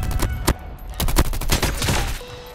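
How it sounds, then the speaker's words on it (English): Rapid bursts of Maddox assault rifle fire in COD Mobile battle royale, loud close shots cracking in quick succession over a steady game background. "The Maddox is a powerful assault rifle to use for medium range,"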